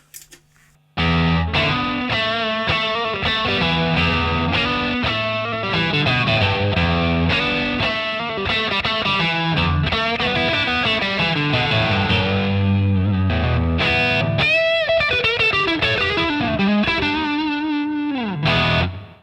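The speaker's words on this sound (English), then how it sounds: "sounds like a Tube Screamer" Overdriven electric guitar through two stacked overdrive pedals with a thick, saturated, Tube Screamer-like tone plays a continuous riff and chords, loud and close, with no talking.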